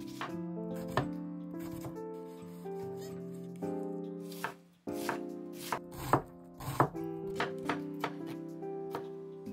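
A knife mincing half an onion on a board, quick repeated chopping taps in uneven bursts, close and crisp, with a low steady hum underneath.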